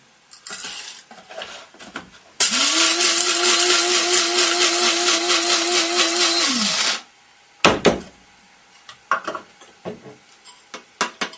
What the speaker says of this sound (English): Measure out coffee, and then you want a coarse grind for the Bodum.